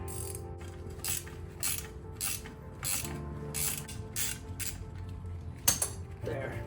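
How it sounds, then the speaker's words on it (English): Repeated clicking of a hand ratchet wrench working the 14 mm bolts on a Honda Prelude rear camber arm bushing, rhythmic bursts of ratcheting strokes close up with brief pauses and a sharper clank near the end. "I guess I'm using a good old ratchet."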